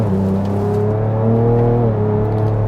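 A 2024 Ford Ranger Raptor's engine hums steadily under light throttle while driving in sport mode, a loud, close, continuous drone that rises slightly in pitch and then settles.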